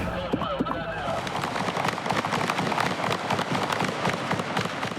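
Rapid, sharp cracks of gunfire from a police shooting in Miami crackle densely in a continuous burst, close and loud, with a voice briefly audible at the start.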